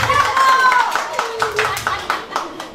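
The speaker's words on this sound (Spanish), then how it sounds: "¿Aplauso para él?" Clapping for a child at a boy's birthday party: a group claps in quick uneven bursts while an adult voice talks and children shout over it.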